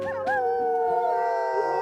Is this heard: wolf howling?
yes